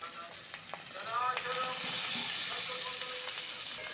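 Fried pointed gourd and potato pieces drop into prawns frying in a pan, raising a close crackling sizzle that swells and holds steady, with light clatter and a faint voice in the background.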